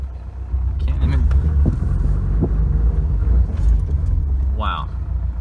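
A Subaru Impreza GC8 with a bad tune struggles to run, its engine a heavy, uneven low rumble that barely pulls through a parking lot, heard from inside the car while a person talks over it.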